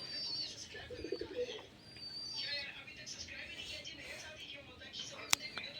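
Pigeons leaving an opened coop, soft cooing and wing flutters close by at low volume, with a sharp click near the end and a voice briefly audible.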